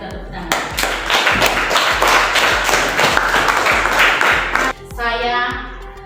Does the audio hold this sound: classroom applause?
yes